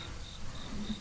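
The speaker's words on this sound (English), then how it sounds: "There are actual crickets. Appropriate cricket noise in the background." Crickets chirp faintly in the background, thin repeated trills under a quiet room tone.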